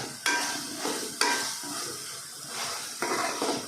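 Drumsticks (moringa pods) and onions frying in a pan, with a steady sizzle and hiss broken by a few sharp stirring scrapes as the pieces are tossed.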